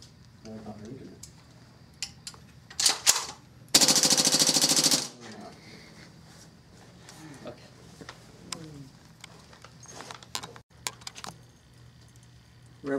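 An AK74U airsoft gun fires one sustained full-auto burst of over a second, a dense rapid rattle standing out among scattered clicks, handling noises and faint talk.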